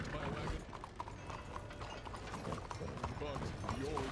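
Two horses pulling a wagon in the video game RedM, their hooves clip-clopping in a steady rhythm under continuous talk, moderately close but fairly quiet.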